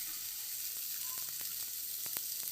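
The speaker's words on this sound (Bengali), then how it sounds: "মশলাটাকে কষিয়ে নেব।" Masala frying in a pan over a lowered flame for pabda fish, a dense, even sizzle with faint crackles and ticks, close and steady with no voices.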